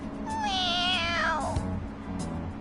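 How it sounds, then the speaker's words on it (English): A cat in Persona 5 Royal gives one clear, rising-then-falling meow lasting about a second, followed by quieter background sound. "Meow."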